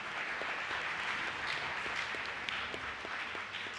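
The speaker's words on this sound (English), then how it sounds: "How about a round of applause for our clerical team?" Steady applause from an audience at a principal's reception, honoring the clerical team: a soft, continuous patter of clapping heard from a distance, with no voices over it.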